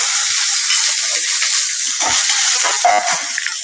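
Crushed onion and garlic sizzle steadily in hot oil in a pan, a loud, continuous broadband frying hiss with a few brief stirring clatters near the end, no voices.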